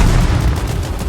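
A grenade explodes in a World War trench combat video game, heard as a single loud, close, low booming blast that rumbles and fades over about a second, with no voices.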